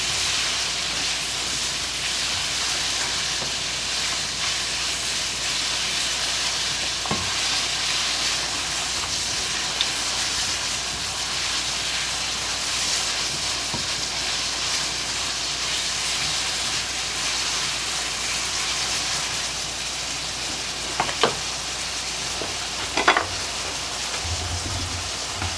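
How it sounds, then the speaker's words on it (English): Bacon fries in a pan for a corn dog casserole, a continuous dense hissing sizzle throughout with a few faint scraping stirs near the end. "More stirring for the bacon so that way everything's cooked evenly."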